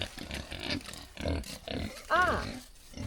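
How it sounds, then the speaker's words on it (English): Pigs on a farm grunt and oink up close in short, repeated bursts, with one higher squealing call near the end, mixed with a person talking. "Sorry about the pigs."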